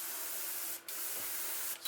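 Titanium white spray paint hisses from an aerosol can aimed head-on at a 3D stencil in two steady close bursts separated by a brief pause, with no talking.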